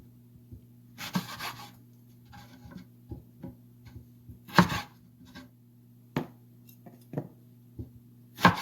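Potatoes are cut into fries for fritters at a culinary competition, with a knife knocking irregularly on a cutting board, several sharp, close chops and softer taps over a low steady hum.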